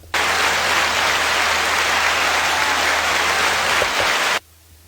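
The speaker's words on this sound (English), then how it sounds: "Round of applause." A round of applause fills the whole stretch, a steady, dense wash of clapping at a constant level that cuts off abruptly near the end, coming from the audience of a sports podcast.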